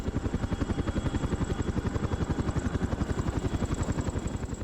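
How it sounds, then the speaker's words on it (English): Helicopters on a wildfire Bambi bucket water drop: a loud, rapid, even rotor thump beating without pause, close and steady, with no voices. "The helicopters collected water in a bucket and released it over a specified location."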